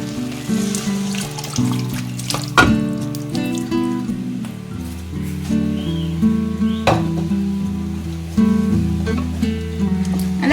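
Boiled mutton goes into sizzling masala in a pan, giving a continuous crackling fry with scattered pops and sharp clatters from a utensil, steady and fairly close.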